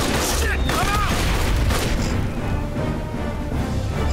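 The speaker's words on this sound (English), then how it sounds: "Let's do another grenade." A grenade blast in Aliens: Dark Descent, a loud, sustained rumbling explosion with crackling debris, layered with game effects and chirps throughout.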